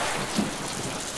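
Steady rain and rumbling thunderstorm in the Deadpool video game, a dense continuous wash of falling rain with a low rumble swelling briefly, loud and close with no talking.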